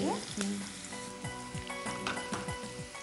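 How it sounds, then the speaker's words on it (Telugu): Onion pieces fry in hot oil with a steady, bright sizzle, punctuated by repeated spatula scrapes against the pan and a faint tonal hum in the background. "నూనె వేడెక్కాక ఉల్లిపాయ ముక్కలు వేసాం."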